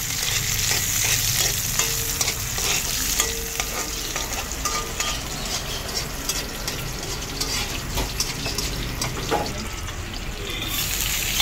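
Garlic and ginger crackle and sizzle in a hot pan, with close stirring scrapes and clinks of a utensil running through the steady frying noise.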